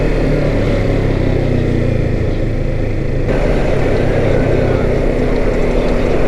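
A motorcycle engine drones loud and steady up close as the rider pulls away from a standstill in third gear, with no clear rise in pitch and constant rushing noise.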